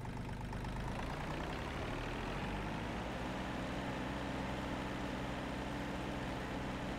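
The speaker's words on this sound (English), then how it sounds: "Next, this is the little tractor." A small tractor engine in Farming Simulator 22 idles steadily, a continuous low rumble that holds even and close throughout with no talk.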